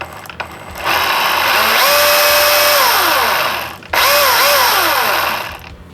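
A Milwaukee M18FCHS cordless chainsaw whirs up to a loud steady whine, winds down briefly with a pitch drop, then revs up again with variable speed, close and alone.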